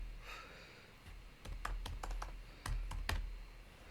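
Code being typed on a computer keyboard, a few scattered keystrokes followed by two quick clusters of close, crisp clicks; quiet, with no voice.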